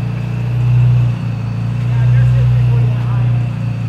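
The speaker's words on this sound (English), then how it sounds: "running a supercharged drift car over there" A supercharged drift car engine runs nearby in a garage during an oil pan install, giving a loud, steady droning hum that rises and dips slightly throughout.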